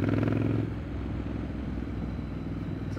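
A Street Scrambler motorcycle pulling away in second gear: a louder engine note at first that eases into a steady, fairly low rumble as it rides off, with no talking.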